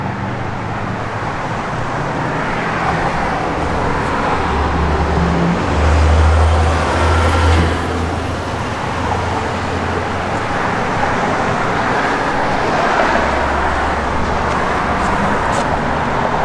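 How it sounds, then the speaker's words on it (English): A 1969 Chevrolet Nova with a 350 V8, a cam, and a Flowmaster X-pipe dual exhaust idles with a continuous deep, rumbling burble, loud and near, with small swells in level and no talk. "Good looking car, great sound, X-Pipe Flowmaster dual exhaust system on it."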